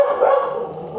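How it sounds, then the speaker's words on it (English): A dog barks excitedly at someone outside, a steady run of overlapping barks that sounds indoors and fairly loud, filling the whole moment without any talk. "my dog is currently going off because there's someone outside"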